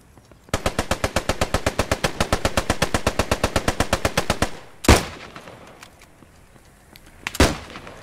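A long burst of rapid machine-gun fire in the World War II shooter Post Scriptum, about thirty evenly spaced loud shots, followed by two heavier single blasts after short gaps.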